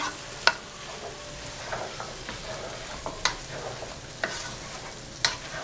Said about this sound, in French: Moi je les remue régulièrement quand même.